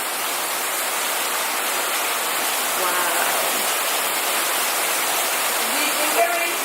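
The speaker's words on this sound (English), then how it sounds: "Massive rain." Heavy pouring rain makes a dense, loud, unbroken roar outdoors, and a person briefly exclaims over the downpour.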